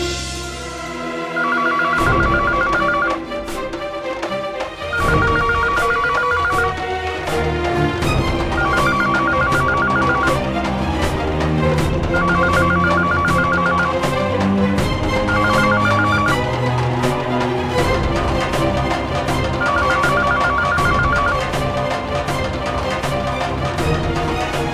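A telephone rings in a repeating pattern of bursts over continuous background music throughout, with no one answering.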